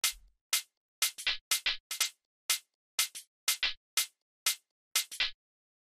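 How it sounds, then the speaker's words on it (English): Layered house music hi-hats, a dry, crisp pattern of short bright ticks, some falling in quick doubled hits, repeating in a steady groove with silence between strikes and nothing else playing. "Next thing that we have here are these hi-hats, which all together sound like this."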